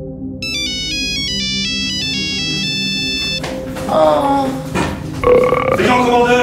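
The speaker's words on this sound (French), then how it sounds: "Pourquoi t'as cette sonnerie?" A musical phone ringtone plays a bright repeating melody for about three seconds, loud and close, followed by other noises and voices talking in a comedic French skit.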